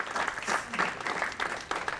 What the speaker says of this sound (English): give a round of applause for those young men that started out